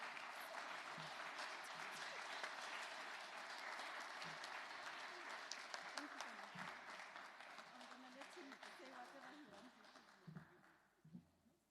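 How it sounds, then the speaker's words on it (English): Conference audience applauding, a dense sustained clapping that fills the room and slowly thins out, with a voice speaking over it toward the end. "can we just give a round of applause as Mr. Mundia comes to the floor"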